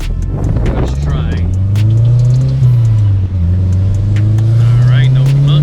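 A Mazdaspeed 6 with newly installed motor mounts rumbles and revs on a test drive, its engine rising and dipping through shifts, loud and close, with someone talking over it.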